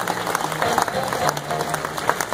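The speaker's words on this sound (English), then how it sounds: "if you want to applaud him" An audience at a Clydesdale wagon-driving show applauds a driver, a steady wash of clapping from a crowd that holds throughout at moderate volume, with a voice faintly under it.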